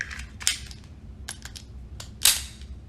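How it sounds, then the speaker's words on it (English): Sharp metallic clicks come from a SIG P365 pistol as a magazine is inserted into the reassembled gun. A lighter click comes first, then a louder, crisp snap near the end, close up and otherwise quiet. "insert your mag"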